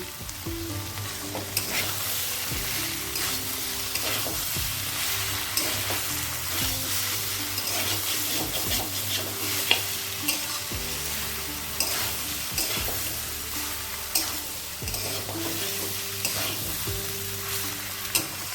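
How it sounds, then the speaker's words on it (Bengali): Fried potatoes and spices sizzle together in oil for a banana flower curry with fish head, a continuous close crackle with frequent spoon scrapes and knocks against the pan, steady and unbroken by speech. "আলুটা ভালো করে ভেজে নিয়েছিলাম আলুটা অনেকটাই নরম হয়ে আছে আর একটু সময় ভাজলেই হয়ে যাবে"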